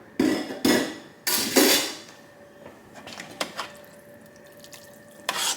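Water from a kitchen tap splashes in bursts as a pot goes into the sink, followed by metallic clanks and knocks of cookware against the basin, then a quieter steady trickle with a faint ringing tone.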